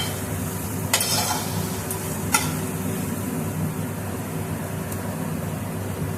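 Cauliflower paratha filling is sautéed slowly in a pan over a low gas flame: a soft, even sizzle runs throughout, broken by two brief scraping stirs near the start.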